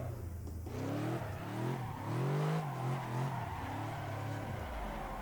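A drifting car in the Assetto Corsa EVO racing game slides sideways with a steady, rising and falling engine whine and revs, heard alone and fairly close.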